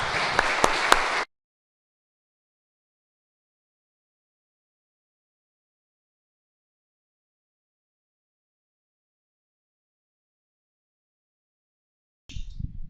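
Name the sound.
congregation applauding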